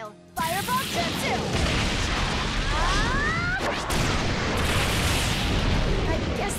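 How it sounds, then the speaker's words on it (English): Fire style Fireball Jutsu in Naruto Storm 4, a loud roaring burst of flame and explosion that sustains as a rumbling blaze, with voice and battle effects over it. "Fire style! Fireball Jutsu!"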